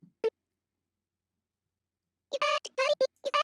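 Chopped vocal samples in FL Studio 21, with the high and low end filtered away, come as short stuttering syllable bursts, a lone blip and then a quick rhythmic cluster after a silent gap.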